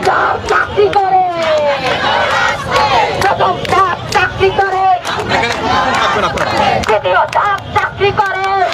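Protesting teachers at Shahbag, Dhaka, chant slogans at night as a loud, dense crowd of voices shouts in rhythmic bursts, with overlapping calls, babble and scattered claps filling the scene throughout.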